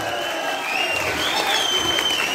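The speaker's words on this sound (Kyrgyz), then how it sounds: "Ырдасын дегендер кол чаап коюңуздар." An audience at a folk-talent singing show claps steadily and densely for a couple of seconds. The applause holds at an even level throughout, with no voices over it.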